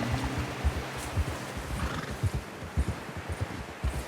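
In Red Dead Redemption 2, a horse whinnies once, then its hooves clip-clop in a steady walking rhythm, close by and moderately quiet.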